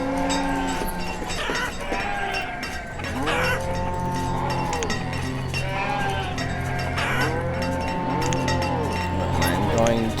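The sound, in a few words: sheep bleating in the video game Banished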